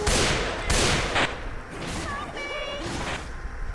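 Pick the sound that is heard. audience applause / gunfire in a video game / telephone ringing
gunfire in a video game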